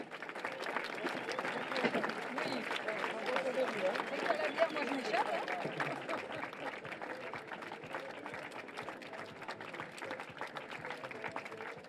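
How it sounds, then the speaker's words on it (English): A crowd applauds surfers at the awards ceremony of the Rip Curl Pro Anglet 2022. The clapping is steady and sustained, mixed with cheering and crowd chatter, while an announcer talks over it. "Vous pouvez encore une fois toutes et tous les applaudir."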